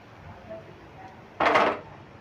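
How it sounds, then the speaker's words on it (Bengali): A metal lid lifted off a cooking pot of steamed semolina and flattened-rice snacks, giving one short, close clatter and scrape, with a faint hiss of released steam behind it. "এবার আমি ঢাকাটা খুলে নিচ্ছি"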